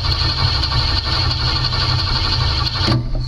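Starter on a 1965 Ford Mustang cranks steadily and close by with an even, repetitive low churn, and the engine never catches.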